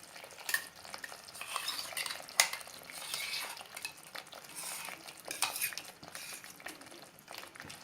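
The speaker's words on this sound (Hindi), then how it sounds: "और इसे अच्छे से मिक्स कर लेंगे।" Chicken changezi being stirred with fresh cream and onion-cashew paste, soft utensil scrapes and clinks against the pot over a faint sizzle, with irregular louder strokes throughout.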